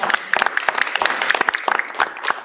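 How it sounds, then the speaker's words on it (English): A meeting audience at a Louisiana juvenile justice reform commission gives a round of dense, steady clapping that carries on throughout without a break. "So another round of applause."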